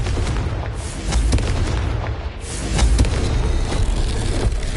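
A Confringo spell blast in a Hogwarts video game erupts as a loud, rumbling explosion with booming low-end bursts that swell and roll on for several seconds.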